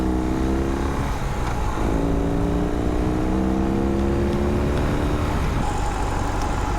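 A 2020 BMW R18 First Edition motorcycle with an 1800 cc engine revving nearby: a loud, deep rumble rises in pitch, drops, then climbs again in two long revs.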